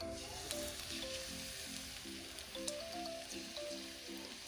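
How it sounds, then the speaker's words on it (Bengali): Cauliflower chops sizzle steadily in hot oil, a close, continuous bubbling hiss with faint pops, while a melodic tune plays over it throughout. "এই যে আমার ফুলকপির চপ ভাজা হয়ে গেছে।"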